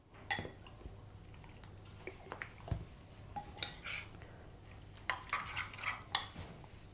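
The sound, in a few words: mixing chermoula paste with olive oil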